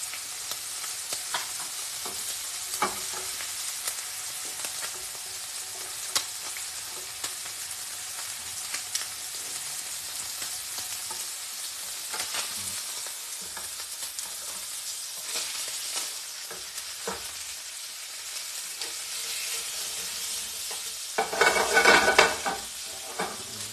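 Pork chops with figs fry in a pan, a long low sizzle with scattered crackles and utensil scrapes, swelling into a louder burst of spattering near the end.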